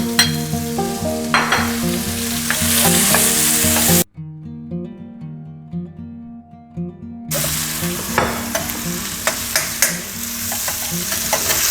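Shrimp, fresh ginger and garlic stir-fry in a hot pan, a loud crackling sizzle with scraping stirs that briefly drops away and then resumes, alone without talk.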